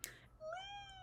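A kitten gives a single short, high, rising meow, close and fairly quiet, after a brief rustle.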